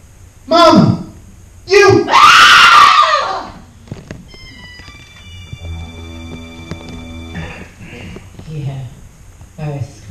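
A woman screams loudly in a staged Halloween theatre production, two short cries followed by a sustained shriek, close and intense, then giving way to quieter eerie tones.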